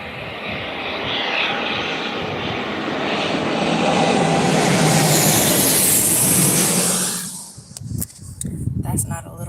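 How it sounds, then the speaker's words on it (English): A large airplane passes overhead, a loud broadband engine roar that swells and holds for several seconds, then fades quickly, leaving scattered nearby clicks and knocks. "That's not a little private plane there. That ain't no little one. It's a big one right there."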